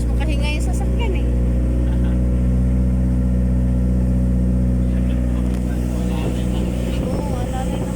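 A car engine labours steadily up a long mountain road, a constant droning hum with low rumbling tones throughout, while people talk over it.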